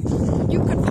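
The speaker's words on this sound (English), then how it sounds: "It's windy again." Wind buffets the microphone in a steady low roar for a brief moment, dense and close with no pauses.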